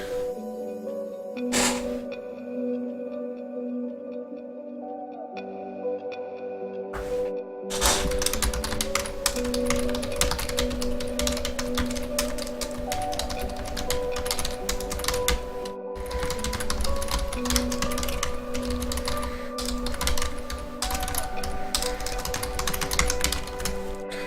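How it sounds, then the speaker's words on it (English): Loud mechanical computer keyboard clatters in rapid, uneven bursts of typing, close and dry, with a few short pauses and no speech over it. "I know my keyboard is ridiculous loud when I chat"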